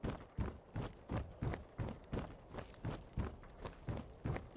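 Horse hooves clip-clop at a steady walking rhythm in the Skyrim video game, close and clear with an even repeating beat and no talking.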